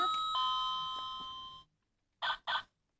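A battery-powered doorbell on a toy Littlest Pet Shop house plays a bright electronic chime for about a second and a half, then gives two short, loud beeps after a brief pause.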